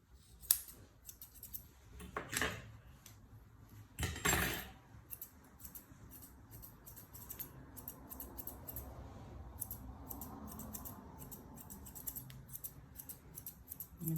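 Scissors snip repeatedly at dog's ear fur during an Asian-style head grooming, the quick close-up clicks coming in bursts, with a few louder handling noises early on, over a quiet room.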